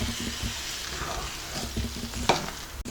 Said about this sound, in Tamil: இந்த உப்புமா கூட கலந்து விட்டுக்கலாம்.